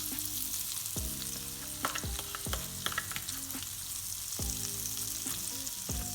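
Crushed garlic frying in a pan with oil, a continuous close sizzle broken by repeated utensil knocks and scrapes against the pan at an uneven rhythm.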